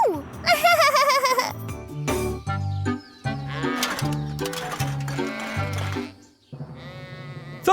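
Cartoon sheep bleat again and again at a sheep beauty contest, with loud, wavering, nasal cries overlapping one another and voices mixed in among them.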